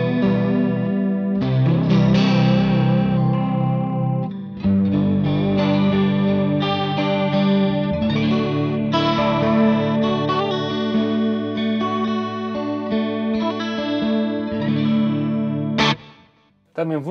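An electric guitar played through a NUX MG30 multi-effects preset with reverb and delay rings out in a slow worship-style passage of sustained chords and notes, loud and alone, with echoing tails before a sudden stop.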